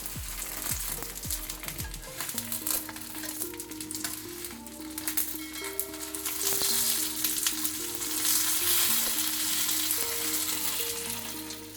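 Pearl spot fish wrapped in banana leaf frying in a pan and turned over, giving a steady loud sizzle with a few clatters of the turning utensil, swelling toward the end.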